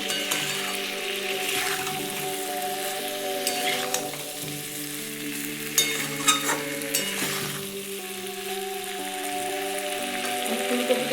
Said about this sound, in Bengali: দিয়ে একটু ভালো করে কষে নিচ্ছি